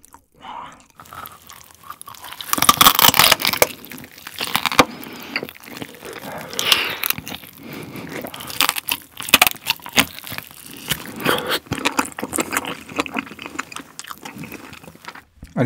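Close, crunchy chewing of a thick, crisp-topped grilled pork belly, irregular bites and crunches repeating throughout at moderate loudness, with no talking.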